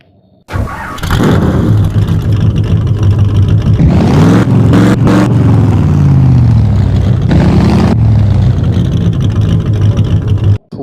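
A cartoon car engine starts abruptly and runs loudly with a steady motor drone, swelling and revving in the middle before settling back, then cutting off at the end, with no talk over it.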